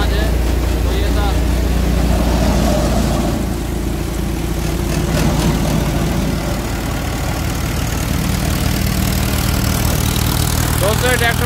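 A grain thresher driven by a 50 hp four-cylinder tractor runs steadily and loudly for the whole stretch, a continuous low mechanical drone.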